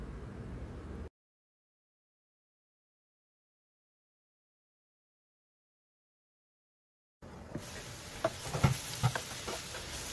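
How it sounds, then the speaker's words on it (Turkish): Eggplants frying in a pan and stirred now and then: a brief sizzle, a long silence, then steady sizzling with scattered scraping clicks from the stirring over the last few seconds. "Patlıcanları ara sıra kontrollü bir şekilde karıştırarak pişirmeye devam edelim."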